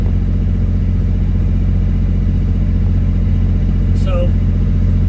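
A boat engine with earlier engine problems runs smoothly during a test run heading back to its mooring, giving a loud, even low drone that stays constant throughout.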